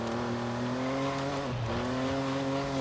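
Volkswagen Corrado VR6 Turbo in Forza Horizon 5 holding a steady engine drone through a B-class drive, with a brief dip in pitch as the car slides in oversteer, then the note climbs again, loud and continuous with no talk.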